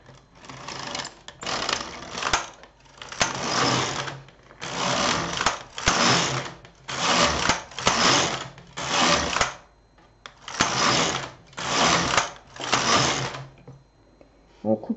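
A domestic knitting machine carriage knits a few rows of waste yarn across twenty needles for a child's mitten, making about eleven rhythmic swishing, clattering passes close by, each separated by a brief pause.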